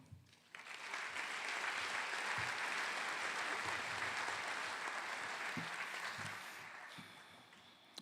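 Audience at a spring nursing college commencement applauding to welcome the provost, a sustained wash of clapping that swells quickly, holds for several seconds, then fades.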